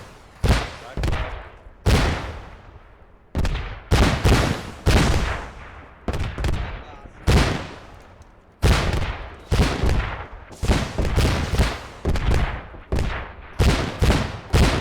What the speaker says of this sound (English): fire at will and follow your rockets